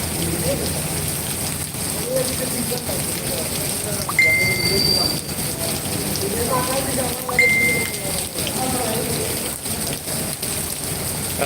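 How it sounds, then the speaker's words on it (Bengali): Steady heavy rain pouring down outdoors during a nor'wester storm in Sylhet city, a continuous wash of noise with occasional distant vehicle sounds and faint voices beneath. "কারণ দীর্ঘক্ষণ থেকেই বৃষ্টিপাত হচ্ছে"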